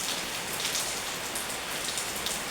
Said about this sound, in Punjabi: ਦੇਖੋ ਕਿੰਨਾ ਮੀਂਹ ਪੈ ਰਿਹਾ